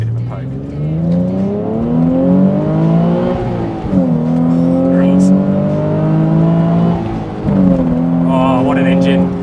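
Nismo 380RS, a Z33 350Z with a V6 engine, pulls hard up through first, second and third gears, loud revs climbing smoothly with two clear gearshift dips between pulls.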